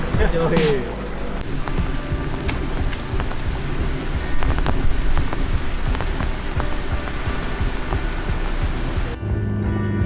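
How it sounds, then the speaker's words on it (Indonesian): Heavy tropical rain pouring during a river fishing trip in the Mentawai Islands, a dense steady roar with wind buffeting the microphone throughout, close and loud, with brief voice-like sounds near the start. "hujan dan akhirnya benar-benar hujan deras"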